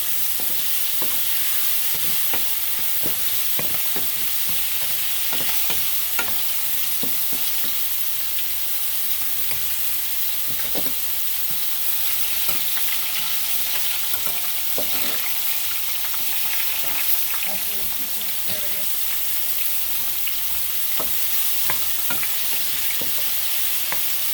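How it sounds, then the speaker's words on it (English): Stewed chicken is sautéed in a pan and stirred with a wooden spoon: a continuous sizzle runs under repeated soft scraping and tapping strokes for the whole stretch, close by with no talking. "I'm just sauteing everything in this pan."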